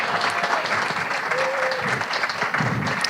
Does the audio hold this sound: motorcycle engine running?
no